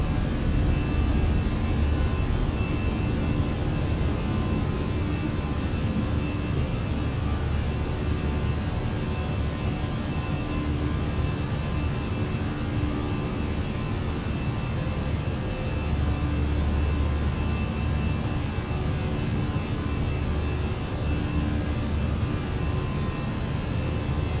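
An Airbus A319 climbing after takeoff in Microsoft Flight Simulator produces a constant, dense engine roar with a deep low rumble, steady and unbroken throughout.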